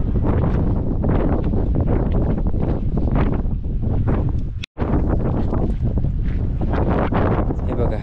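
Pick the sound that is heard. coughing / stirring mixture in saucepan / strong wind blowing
strong wind blowing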